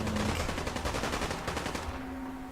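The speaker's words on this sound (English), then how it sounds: "Definitely a lot of shooting going on." Rapid automatic gunfire in the video game Fallout 4 rattles loudly in a dense continuous burst, then tapers off into a steady background tone.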